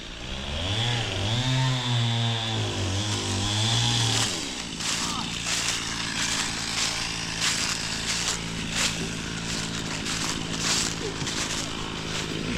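Chainsaw cutting fallen wood into smaller pieces for a skid steer to grab, preceded by a rising and falling engine whine, then a steady loud buzzing drone with broadband cutting noise throughout.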